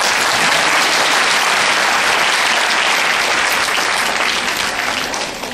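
Sustained audience applause at an annual award ceremony honouring women, loud and dense clapping filling the whole stretch without pause and tapering only slightly at the very end.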